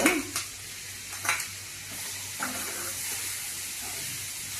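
Tomatoes frying in a pan while an egg curry is cooked, a soft steady sizzle with a few brief stirring scrapes near the start, no talk.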